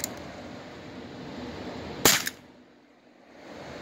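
A single sharp, close pop comes from a Crosman 3-inch air revolver firing, with a brief snappy tail, set between stretches of quiet room hiss.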